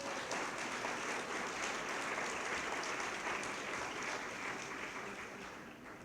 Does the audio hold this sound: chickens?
no